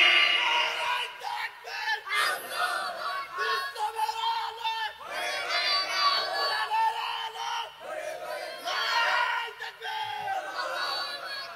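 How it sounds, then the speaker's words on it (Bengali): A large crowd at an Islamic sermon gathering in Mymensingh chants the takbir in unison, roaring out about five loud, rhythmic shouted responses separated by short pauses. "জোরে বলেন লিল্লাহি তাকবীর।"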